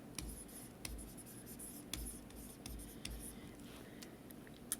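A pen scratching out a chemistry dissociation equation during a lesson, with quick close strokes and small taps in an uneven rhythm, and soft murmuring in the background.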